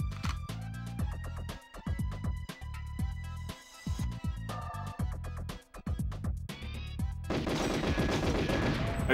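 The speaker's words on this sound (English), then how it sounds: "shoot the guards that are there" Gunfire in the video game Control, aimed at guards, crackles in rapid sharp bursts and single shots, ending in a denser, noisier stretch of sustained firing.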